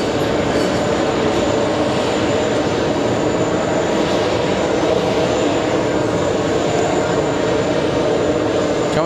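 A KLM airliner takes off at JFK airport, a loud continuous engine roar and rush that stays steady and close the whole time, with faint talk in the background.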